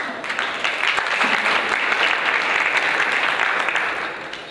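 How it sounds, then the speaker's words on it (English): A steady burst of audience applause for entrepreneur panel guests in Zagreb, a full, even crowd clapping that swells and then eases off near the end. "A big applause for my guests, please."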